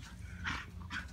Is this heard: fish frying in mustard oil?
no